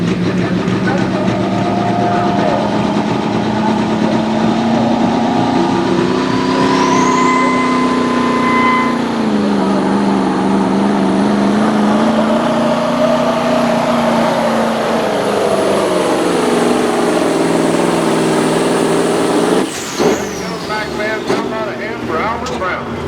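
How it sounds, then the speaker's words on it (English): Semi truck at a pulling event powered by a rare 998 cubic inch Mack V8 with 4-cylinder heads, a loud sustained engine roar with shifting pitch as it strains and climbs, then a sudden cutoff, under an announcer's voice. "It's got the 998 cubic inch V8 Mac under the hood."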